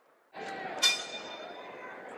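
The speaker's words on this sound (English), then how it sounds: "The bell starts this battle" At a 1982 professional wrestling match, crowd noise swells suddenly, and then a single bright bell strike rings out over it and fades into the ongoing hubbub.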